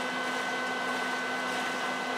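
A vacuum sucks up bees during a beehive cut-out, its motor whining in a steady, close drone with a constant tonal hum and airy rush and no talking over it.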